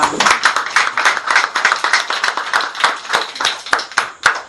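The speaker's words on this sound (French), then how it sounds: "Applaudissons pour le Seigneur." Clapping from a church congregation applauding the Lord, a steady, fairly rhythmic patter of many hands, loud and close, with no voices over it.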